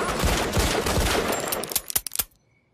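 Cartoon gunfire from Berettas, Glocks and a Smith & Wesson: a dense, continuous barrage of loud shots that breaks into a few separate sharp bangs before cutting to silence.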